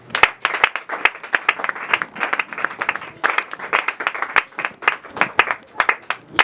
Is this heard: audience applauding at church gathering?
yes